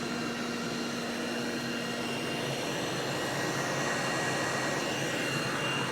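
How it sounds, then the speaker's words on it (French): An Ultenic TS1 robot vacuum cleaner vacuums and mops at the same time, its spinning mop pads and side brush turning. It gives off a steady, loud whirring drone that continues unbroken throughout, with no talk. "La serpillière et l'aspirateur en même temps."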